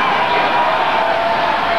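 A live festival audience at a 1967 televised song festival final roars in a dense, steady wash of noise, applause and jeers blending into one loud, sustained crowd din with no break.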